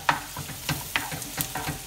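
Shrimp ranchero sizzling in a hot pan as chili is added, with a steady fry under repeated stirring scrapes and clacks at a quick, uneven rhythm, close by.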